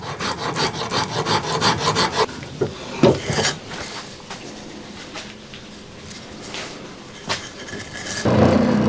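Rasping strokes of a file shaping a wooden ball peen hammer handle, a quick burst of close, gritty scrapes at first, then slower, scattered rubbing strokes with a pause and a final rough pass.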